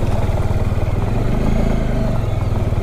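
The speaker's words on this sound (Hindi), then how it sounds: "गोल गोल पत्थरों पे थोड़ा सा बाइक का दिक्कत रहता था" A motorcycle rides over round stones on a jungle road near a dam, its engine thumping in a steady, loud, close pulsing rumble throughout, with no talk.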